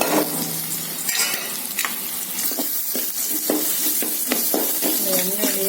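Mutton masala, turmeric, coriander and cinnamon-clove powders fry in hot oil, giving a close, steady sizzle broken by repeated scraping stirs of a spoon against the pan.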